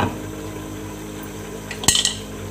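A metal lid clatters onto a cooking pot of tomatoes stewing for achar gosht, one sharp clank followed by a brief rattle as it settles, over a low steady kitchen hum.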